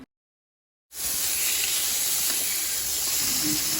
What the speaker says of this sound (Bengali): এবার কড়াই ভেজে নিলাম